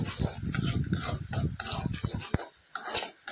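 A spoon stirs vinegar into homemade tomato sauce in a pot, giving repeated close scraping and clinking strokes of metal against cookware, with a light sizzle underneath and no speech.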